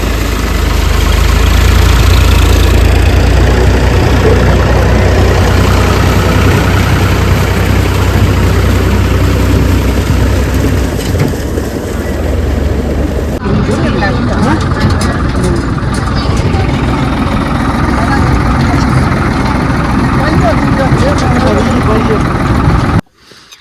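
A tractor engine idles steadily and loudly in a Punjab village, a continuous low rumbling drone that changes tone partway through before cutting off at the end.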